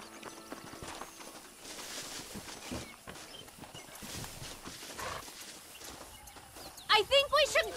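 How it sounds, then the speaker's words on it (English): Horses pulling a stagecoach in the Red Dead Redemption video game, with clip-clopping hooves under game ambience and speech, followed by a loud burst of rapid hoofbeats near the end. "They are good horses."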